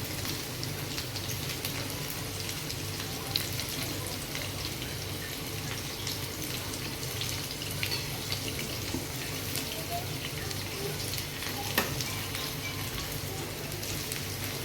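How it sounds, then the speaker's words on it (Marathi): Chicken lollipops deep frying in hot oil, a steady dense crackling sizzle that holds evenly throughout with no talking. "अजून खूप सारे तुम्हाला फक्त मी एवढेच तळून दाखवणार आहे"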